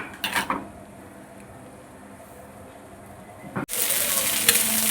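Spices sizzling hard in hot oil for a Kerala-style fish curry, a steady crackling hiss with a few sharp spatters early on, then a sudden louder burst of sizzle near the end, close and with no talk.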